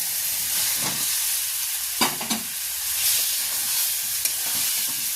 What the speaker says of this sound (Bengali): এবার আমি এর মধ্যে ভাজা আলু আর ডিমটা দিয়ে একসাথে মশলার সাথে নাড়াচাড়া করব।